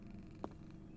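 A cat purrs softly in the horror video game Pieces of Me, heard as a low, faint, continuous rumble. A single short tap sounds briefly partway through.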